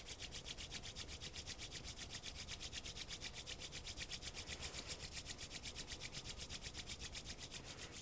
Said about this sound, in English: Go ahead and rub your palms together in front of your heart.